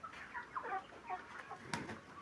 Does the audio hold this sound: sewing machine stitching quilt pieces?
no